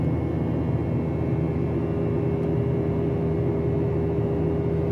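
Steady, loud broadband drone of an Alaska Airlines jet climbing out of Seattle, heard from inside the cabin as a continuous even roar with a low hum and no voices.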